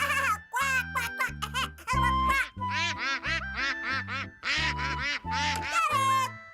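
A voice imitating a duck, with a string of nasal quacks in a quick, uneven rhythm, loud and close, lasting several seconds without pause.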